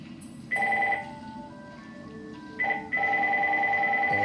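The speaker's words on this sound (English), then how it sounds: "And the phone's ringing." A telephone rings in a video game, two bursts of steady electronic ring tones over a busy game soundtrack, fairly loud and close.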